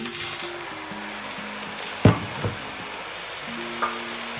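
Pancit bihon noodles stirred with broth in a hot pan, a steady close sizzle and frying hiss with a couple of louder scraping stir strokes and no talking.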